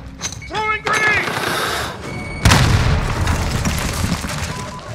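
A grenade explodes in a Call of Duty Modern Warfare team deathmatch: a loud, close boom with a rumbling tail, among ongoing gunfire and battlefield noise, with voices calling out.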